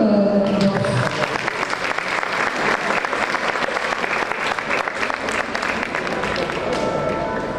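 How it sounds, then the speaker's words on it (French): Audience applause at a school open day in Charleroi: dense, loud clapping from a crowd, continuous and even for several seconds after a brief voice at the start. "On peut une fois applaudir."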